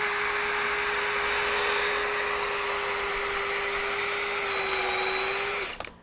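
A RIDGID 18V SubCompact cordless drill, set to speed 2, drives 3.5 to 4-inch deck screws, giving a loud, close, steady motor whine that holds level for about six seconds before cutting off abruptly.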